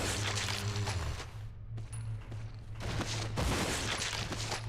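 Pistol shots in the survival horror game Resident Evil Zero, a few sharp cracks spaced across the stretch with gaps between them, over a low hum and game ambience.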